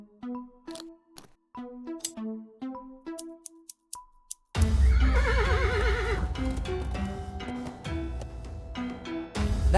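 A horse in a video game whinnies and snorts with clip-clopping hooves, first as sparse clear calls and clicks, then under a dense swell of game music and ambience.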